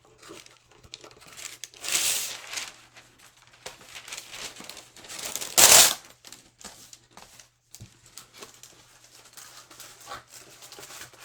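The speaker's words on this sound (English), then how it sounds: "Let me grab some parchment paper." Parchment paper is crinkled and handled at a craft table. Soft rustling runs throughout, with a louder burst of crackling early on and a sharp, loud crumple about halfway through.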